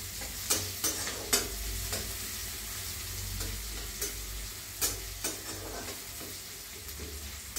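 Onion sautés in a pan with a steady sizzle, punctuated by regular scrapes and taps of a spoon as it is stirred, close but fairly quiet, without speech.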